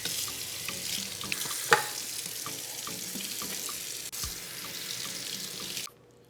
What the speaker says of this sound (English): Let's start by washing our hands.